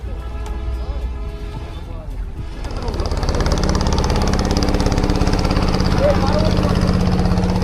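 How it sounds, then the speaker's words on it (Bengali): A coast guard boat's engine on the river near Kushtia's Hardinge railway bridge gives a steady mid-range rumble with a fast, even throb. It grows noticeably louder and fuller partway through and then holds, with no one speaking. "এগুলো হচ্ছে কোস্টগার্ডদের বোট।"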